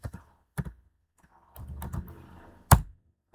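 Code typed on a computer keyboard, a handful of separate key clacks and a short run of quicker taps, close and sharp, with one heavier strike near the end and no voices.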